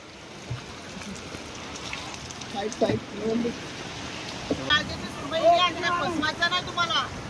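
Steady rain patters at a fish market, a constant wet wash of drops with splashes, while voices talk intermittently nearby over it.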